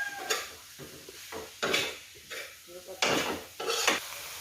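Bitter gourd with egg cooking in a pan: a series of separate scraping, stirring strokes of a utensil against the pan over a faint sizzle, about seven distinct scrapes in a few seconds.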